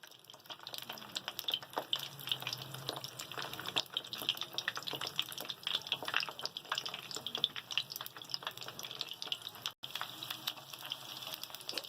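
Chicken shami kababs fry in a large pan, a soft, continuous sizzle with fine crackles and pops that stays steady and fairly faint throughout, with no voices.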